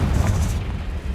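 A Confringo blasting spell explodes in Hogwarts Legacy on PC, a loud, close, rumbling boom that swells for about half a second, then settles into a lingering low roar.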